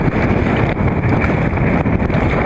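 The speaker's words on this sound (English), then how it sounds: "grey, bit of a cool southwester blowing." A cool southwest wind buffets the microphone near a bridge by choppy water at Raglan, a steady loud rushing roar with gusty swells and no voices.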